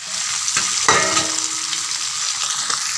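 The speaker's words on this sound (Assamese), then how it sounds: "মাছ ভজাৰ কেৰাহীটোতে মই পেটুখিনি ভাজিব লৈছোঁ" Fish roe fries in a wok used for frying fish, giving a loud continuous sizzle with a clank of stirring about a second in and lighter taps later.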